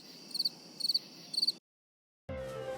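Crickets chirp in three short, evenly spaced pulsing trills, fairly faint, followed by a brief silence and then a different steady background tone.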